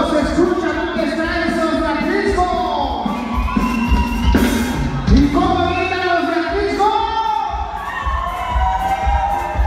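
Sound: crowd shouting

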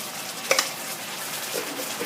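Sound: stir-frying rice noodles with seafood

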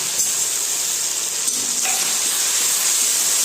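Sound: tomatoes added to hot tempering oil, sizzling

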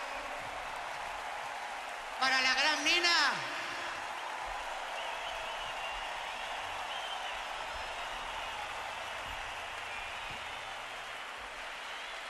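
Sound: stadium crowd applause at concert

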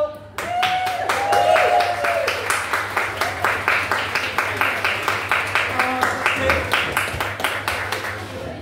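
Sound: audience applauding the host at a comedy show

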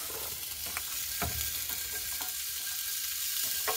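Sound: sausage fajita frying in a pan over a campfire

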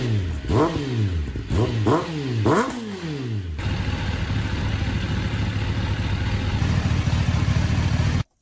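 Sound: motorcycle engine idling after warming up

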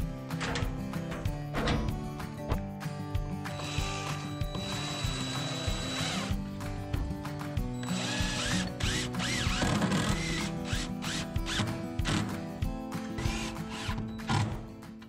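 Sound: mounting a heater bracket to the wall with fasteners

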